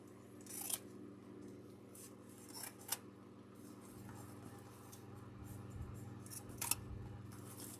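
Scissors snip wreath materials in a few faint, crisp cuts over a steady low hum, with quiet rustling between the snips.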